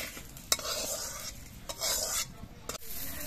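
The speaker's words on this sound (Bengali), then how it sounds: "এবার আমি নিম পাতাগুলো একটা পাত্রের মধ্যে নামিয়ে রাখছি।" Fried neem leaves being scooped from a wok into a bowl: a few sharp metal scrapes and clinks against the wok over a light sizzle of hot oil.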